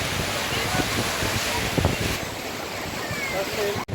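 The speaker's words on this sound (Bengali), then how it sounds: "এখন প্রচুর ঢেউ হয়েছে প্রচুর ঠিক কত বড় বড় ঢেউ হচ্ছে প্রচণ্ড ঢেউ হচ্ছে" Large ocean waves crash onto the shore, a continuous loud roar of surf mixed with strong wind buffeting the microphone, while people talk nearby.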